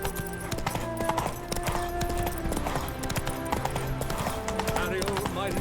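Horse hooves clip-clop in a steady rhythm in The Witcher 3 (Hearts of Stone), close and prominent over in-game music and ambient tones.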